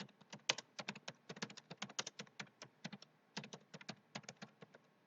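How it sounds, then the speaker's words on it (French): Someone types an email address on a computer keyboard: a quick, irregular run of crisp key clicks close by, with a short pause in the middle and no speech. "Je saisis donc une adresse email complète."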